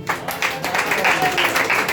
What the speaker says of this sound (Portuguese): E dar uma salva de palmas para o Senhor Jesus